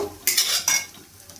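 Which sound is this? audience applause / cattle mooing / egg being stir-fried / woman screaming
egg being stir-fried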